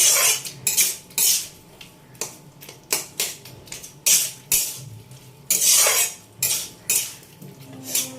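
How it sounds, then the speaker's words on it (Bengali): A metal spatula scrapes and knocks against a pan while mashing boiled potato, pumpkin and pui greens, a series of loud, uneven clatters and scrapes close up, with no voices. "আলু একটু খুন্তি করে একটু ঘেঁটে দেবো।"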